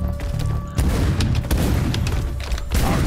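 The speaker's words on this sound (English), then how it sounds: "Oh, this shotgun does some damage." A shotgun blast in the Warhammer 40,000: Shootas, Blood & Teef video game, loud and booming, with a sharp onset after a quieter stretch and then more thumping game noise continuing.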